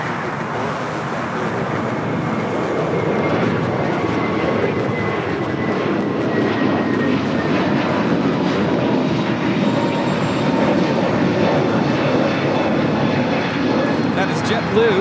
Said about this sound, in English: That is JetBlue 424 taking off to JFK on the A321neo